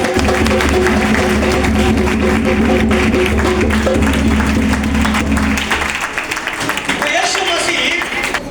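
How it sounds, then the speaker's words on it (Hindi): A church congregation applauds together at an anniversary service, dense sustained clapping filling the room for several seconds before thinning out, with a voice speaking briefly near the end. "सब ताली बजाएंगे।"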